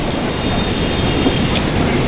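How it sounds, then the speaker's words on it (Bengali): Steady rain pours down outdoors, a dense continuous hiss with a faint low rumble beneath it and no voices. "বাইরে বৃষ্টি পড়ছে"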